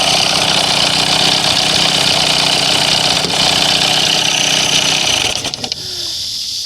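An old outboard motor runs steadily and loudly at a constant pace, a dense mechanical drone that carries on alone until it slackens and drops in level near the end.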